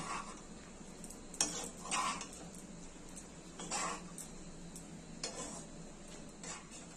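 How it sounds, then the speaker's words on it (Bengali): Vegetable khichdi with fried cashews, raisins, potato and cauliflower being stirred in a pot, the spoon scraping in several separate bursts over a faint sizzle, with no talking. "সবকিছু ভালো করে মিশিয়ে নেব"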